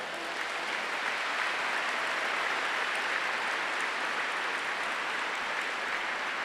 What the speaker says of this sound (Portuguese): Para essas mulheres, uma salva de palmas.